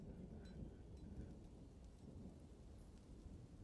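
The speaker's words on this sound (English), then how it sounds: "it sounds like it's raining out here" Rain falling in the video game Dwarf Fortress during late spring, a soft, constant low rumbling patter that holds steady and faint throughout with no talking.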